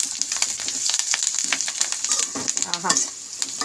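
Garlic tempering sizzles and crackles steadily in a hot pan as spices go in, with stirring scrapes through the middle and a brief exclamation from a voice near the end.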